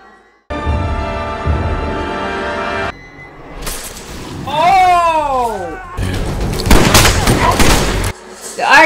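Gunshots from the zombie film Planet Terror ring out in loud bursts of rapid fire mixed with crashes and music, loud and close, with people reacting and talking between them.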